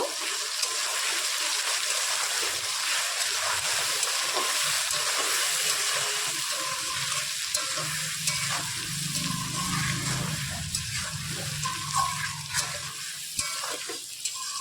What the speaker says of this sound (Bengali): ওকে, এবার একটু কষিয়ে নেব।